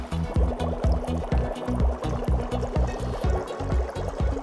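Dry ice sublimating in water, fizzing and bubbling steadily with a rapid, irregular popping burble at close range, loud and alone.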